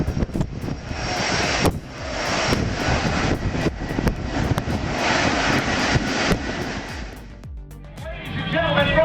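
Aircraft passing over runway 31L at JFK Airport, a loud sustained engine roar with wind buffeting that holds steady, then thins out toward the end.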